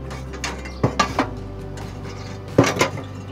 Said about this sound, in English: we're gonna slide our direct grilling grates right over that direct burn area